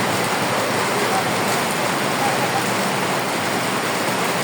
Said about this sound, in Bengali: প্রায় 10 দিন ধরে এরকম বৃষ্টি হচ্ছে।